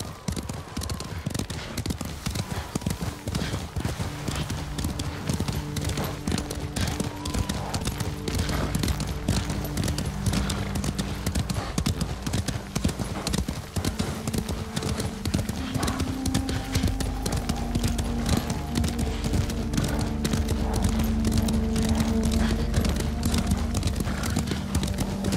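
Horses trot steadily in the Ghost of Tsushima video game, a dense, continuous clatter of hooves with an occasional whinny, loud and close under a low musical drone.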